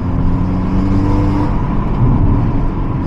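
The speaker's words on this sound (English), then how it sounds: "You hear more turbo noises than exhaust." Loud, steady engine drone of a Hyundai Elantra N with a downpipe, turbo whir and whistle as the driver downshifts, turbo louder than the exhaust, a continuous close rumble without speech.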